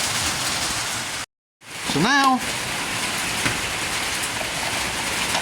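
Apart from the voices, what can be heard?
heavy rain on a tin roof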